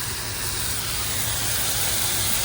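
Eight minced scallion whites and four cloves of minced garlic sizzle on a hot Blackstone griddle, making a steady, close, even hiss that runs unbroken throughout.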